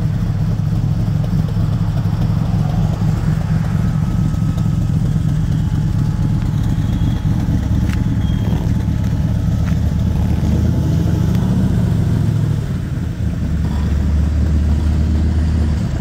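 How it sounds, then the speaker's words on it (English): A black 1968 Pontiac Firebird with a 6.6-litre V8 rumbles at a loud, steady idle close by, its throaty exhaust holding a deep drone with a brief swell partway through. "It's got that throaty exhaust."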